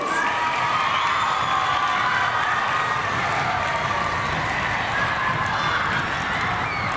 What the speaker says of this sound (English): Let's give a round of applause for Lieutenant Colonel Julio Reyes.